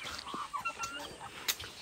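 Several farmyard geese and ducks, goslings among them, give short honks and quacks close by, mixed with faint background chatter.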